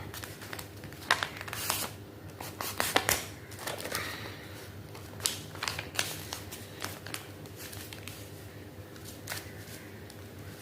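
Sheet of paper folded in half for a paper airplane, close crinkling and sharp crisp creasing snaps repeating irregularly alongside soft rustling.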